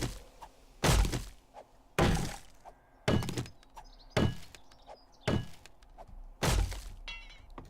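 A fire axe smashes blocks in the 7 Days to Die video game, landing seven heavy, evenly spaced thunks with a cracking, breaking edge, each about a second apart and loud against a quiet background, with no talking.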